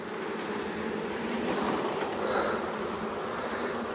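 Honeybees buzz around a hive frame, a dense, continuous droning hum of many insects close by, steady and unbroken.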